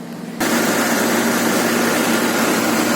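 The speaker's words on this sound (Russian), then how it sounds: "Под капотом у нас тишина. Моторчик шепчет." Mitsubishi Pajero engine idling quietly under the hood after a timing belt replacement, a steady even hum that starts abruptly a moment in and holds at constant level, with no audible knocking.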